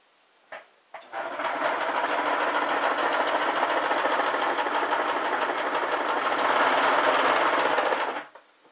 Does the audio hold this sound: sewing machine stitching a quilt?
yes